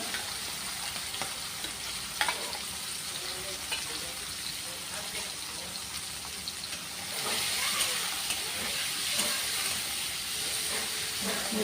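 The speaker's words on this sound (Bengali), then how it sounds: "এবার আমি চিংড়ি মাছটা ভেজে নিচ্ছি।" Shell-on shrimp frying in hot oil for a Bengali chingri dish: a steady, dense sizzle and hiss all the way through, rising louder partway in, with faint stirring clicks under it and no talking.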